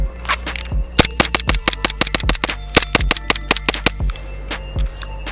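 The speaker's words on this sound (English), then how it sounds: "loaded back up with a fresh CO2 cartridge, which would probably be good for a mag dump" EMG SAI BLU CO2 airsoft training pistol emptying a magazine in rapid fire, a fast string of about twenty sharp, loud close pops with a few quieter clicks before and after.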